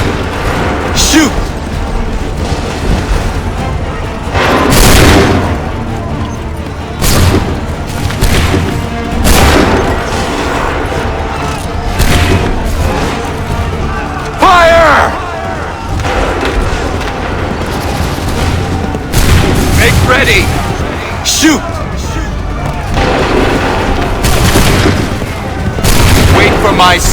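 Musket volleys and cannon fire in the Assassin's Creed 3 video game boom out repeatedly at irregular intervals, loud and near, with crashing blasts and rolling gunfire. Shouted voices come through between the shots.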